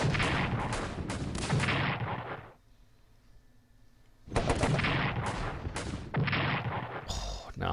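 Artillery fire booms in the World War I strategy game Strategic Command, in two long bursts of loud, rapid, overlapping blasts separated by a near-silent pause of about two seconds.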